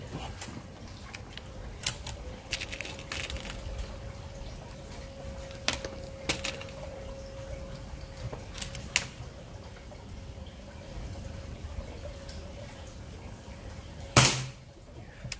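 A PCP Mini Predator Phyton air rifle with an aluminium 30 cm barrel fires test shots at a paper target about 20 metres away, a few soft sharp cracks spaced apart over quiet ambience, with one louder snap near the end.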